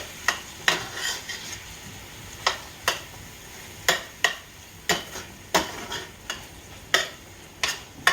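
Coney sauce stirred in a pan over medium heat, with a spoon scraping the pan in regular strokes about once per second over a faint steady sizzle, close and clear with no talk.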